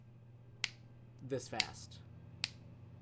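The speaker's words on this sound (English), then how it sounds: "Every time I snap my fingers, we're going to move to the next element." Finger snaps keep tempo while a synth sequence is being built in code: three crisp, isolated snaps spaced roughly a second apart, with someone speaking briefly in between.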